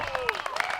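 Disc golf spectators clapping for a long throw with big hang time, a brief patter of scattered claps under a voice talking.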